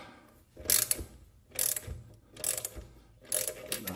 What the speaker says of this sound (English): you actually can use a socket wrench on a square nut or bolt